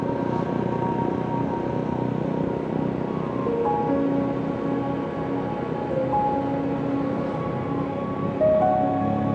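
Ocean surf at a beach in Sukabumi, West Java, a continuous loud wash of breaking waves with steady low rumble and a little wind, no voices.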